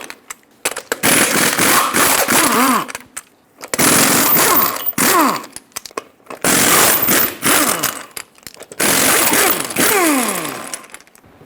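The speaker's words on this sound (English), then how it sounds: "Use a 22mm socket to remove all 8 lug nuts and then pull the wheel off." An impact wrench spinning off the 22mm lug nuts from a Ford E-350 front wheel, four loud bursts of whirring and rattling, each about two seconds, separated by short pauses.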